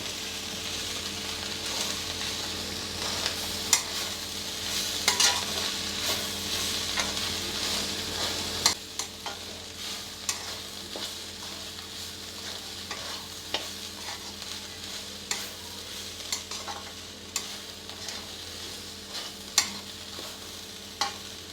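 Grated fresh coconut stirred into a carrot fry in a pan: a low steady sizzle carries throughout while a spatula scrapes and taps the pan in irregular strokes, close and clear.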